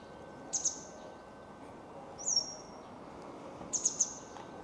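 Three short high bird calls, spaced a second or so apart, ring out over a faint steady hiss in the otherwise quiet space of an abandoned, unfinished university building.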